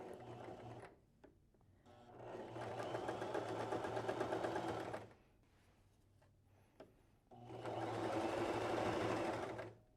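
A bernette b33/b35 sewing machine stitches in two bursts of rapid, even mechanical whirring, each several seconds long. The bursts are separated by quiet pauses with faint handling noises.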